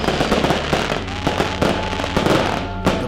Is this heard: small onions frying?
no